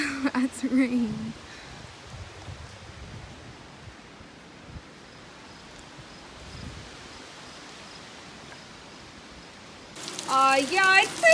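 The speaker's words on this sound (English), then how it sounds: "Yep, that's rain right there." Steady rain falls outdoors as a storm arrives, a soft even hiss that runs for most of the clip, with brief voice sounds at the start and a burst of louder noise near the end.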